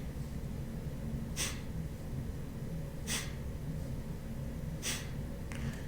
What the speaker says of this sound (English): the breath is going to be a snap out as you breathe out